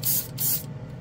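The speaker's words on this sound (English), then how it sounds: "Oh, this airbrush does like this paint. It lays it down nice." An airbrush sprays paint at a hobby bench in two close, loud bursts of airy hiss, each about a quarter second long, before the flow drops away.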